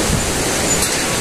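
A big river flowing in Gorkha, Nepal, heard as a steady, loud broadband wash of rushing water with no breaks.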